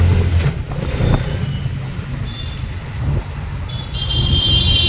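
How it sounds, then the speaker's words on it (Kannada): Busy ambience at Hubli railway station: low rumbling engines and traffic, a few clanks, and faint high tones, with a steady background roar throughout. "ಇದು ನೋಡ್ರಿ ನಮ್ದು ಹುಬ್ಳಿ ರೈಲ್ವೆ ಸ್ಟೇಷನ್"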